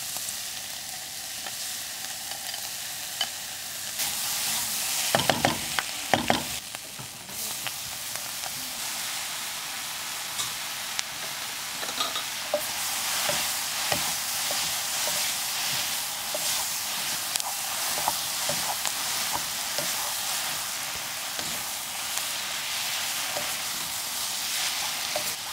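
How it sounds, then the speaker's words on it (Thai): Ramyeon noodles and sauce stir-fried in a hot pan, with a steady loud sizzle and hiss throughout, broken by a few sharp scraping and clattering strokes of the utensil, close up. "แล้วก็เอาซอสแล้วก็เส้นลงไปผัดด้วยค่ะ"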